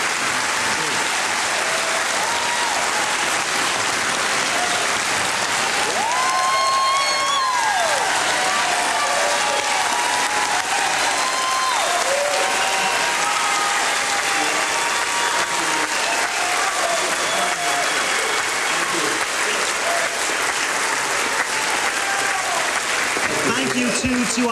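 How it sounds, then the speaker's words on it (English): Studio audience applause after a televised Missouri Senate debate, steady, full clapping that runs throughout at an even level, with a few voices speaking briefly over it partway through. "Go ahead and applaud."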